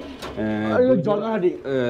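Soft coos of pigeons, fancy breeds such as Giribaz, Deshi Golla and Pakistani Golla, sound close by, partly under someone talking over them.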